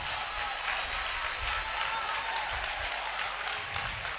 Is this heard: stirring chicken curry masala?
no